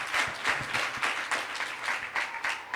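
An audience at a devotional dhadhi leela gathering claps in rhythmic, pulsing bursts, the hand claps fairly close and even, forming a steady repeated beat with no talk over it.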